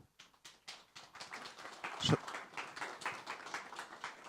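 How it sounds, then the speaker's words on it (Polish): An audience applauds as a speaker takes the stage at the TOGETAIR 2025 climate summit. The clapping is fairly faint and distant, coming in rhythmic bursts that swell briefly near the middle before settling into an even patter. "Wielkie brawa."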